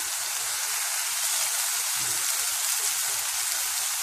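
Steady, dense sizzling of spices and coriander frying in hot oil for an onion-garlic kuzhambu, a continuous crackling hiss close by with no talking.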